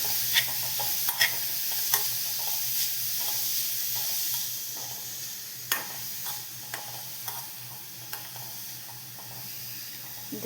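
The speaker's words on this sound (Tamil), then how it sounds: "கேரட்டை நல்லா நெய்யில் வதக்கிக்கலாம்." Carrots sauté in ghee in a pan with a steady soft sizzle, punctuated by irregular scraping and tapping as a utensil stirs them, close and moderately quiet, with no talking.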